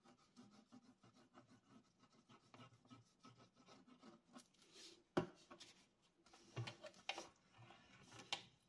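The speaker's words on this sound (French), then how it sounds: "je mets toujours de mon plioir pour avoir une tranche vraiment des bords de couverture qui soit bien plié" A bone folder rubs and presses along the folded paper edges of a handmade album cover, making soft scraping strokes close by, with a few sharper taps and scuffs.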